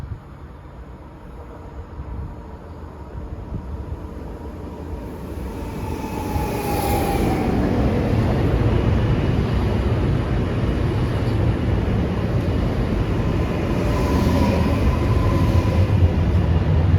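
A train passes through Warszawa Okęcie station on a major Polish railway line, a loud, steady rolling rumble that swells and stays heavy from about six seconds on, with no voices.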